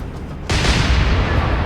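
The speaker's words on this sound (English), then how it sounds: "She had a magazine explosion." A warship's magazine explodes in the naval video game War on the Sea, a sudden loud blast that cuts in after a quiet moment and rolls on as a heavy, sustained roar.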